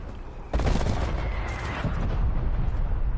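Video game artillery fire erupts abruptly after a half-second lull into a sustained roar of loud, overlapping blasts and rumbling booms.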